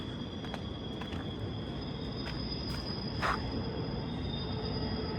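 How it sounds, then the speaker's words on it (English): A train passing near a tunnel entrance, a low continuous rumble of wheels with faint metallic squeals, against a steady drone of insects. "that train's still going by"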